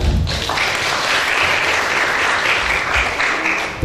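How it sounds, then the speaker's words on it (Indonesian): Wedding guests at a mixed American–Torajan ceremony break into loud, sustained clapping right after the vows, a dense, even burst from a close crowd that carries on for several seconds. "Tepuk tangan dong."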